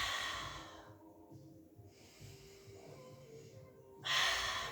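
Breath drawn in and let out during a Pilates leg-kick exercise, soft and close with airy rushes rising and falling over several seconds and a stronger exhale-like gust near the end.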